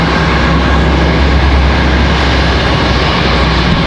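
A CRJ jet lands at Charlotte Douglas International Airport, a loud, broad, continuous roar of jet engines at fairly close range lasting throughout.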